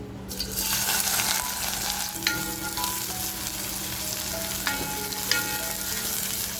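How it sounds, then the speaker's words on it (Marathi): Onion frying in hot oil with a few whole spices for a garlic mutton masala, a steady close sizzle holding for the whole stretch with faint clinks of a spoon stirring, and nobody talking. "लगेचच बघा कांदा टाकून घेते, कारण आपलं तेल छान तापले."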